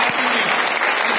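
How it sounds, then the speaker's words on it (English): Audience at a VMware corporate event bursts into a loud, dense round of applause, steady and close throughout with no gaps. "A massive round of applause."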